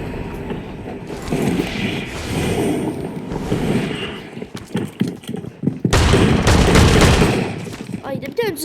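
Shotgun blasts in a video game boom out loud and close, a string of heavy shots with sharp thumps and roaring bursts, the last ones coming fast and densely packed.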